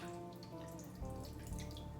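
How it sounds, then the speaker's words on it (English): A can of Mountain Dew is poured over peach dumplings, a faint, continuous liquid trickle and splash with a soft hum underneath and no speech. "Pour this can of Mountain Dew over the top of this whole thing."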